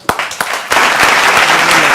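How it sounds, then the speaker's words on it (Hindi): Audience applause breaks out at a televised Hindi political cricket-themed studio show, a few scattered claps first, then building into sustained loud clapping from the crowd. "तालियां"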